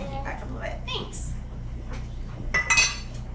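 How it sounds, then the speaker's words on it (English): A utensil clinks and scrapes against a cooking pot while food is stirred, the metallic taps light and irregular above a steady low hum. "Give a little stir."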